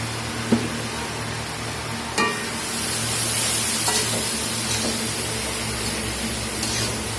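Vegetables stir-frying with salt in a pan, with bottle gourd, potato and tomato on hand, a steady hissing sizzle with a few scattered utensil scrapes and clicks, close and unaccompanied by speech.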